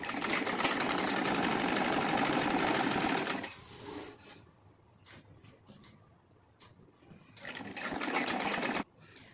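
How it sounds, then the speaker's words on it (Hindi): Sewing machine stitching the armhole and side seams of a kurti made from an old heavy silk saree, a close, loud steady whir in two bursts with a quieter gap of small handling noises between. "सबसे पहले हम इसके आर्म होल को सिलाई करेंगे, उसके बाद हम साइड को सिलाई करेंगे।"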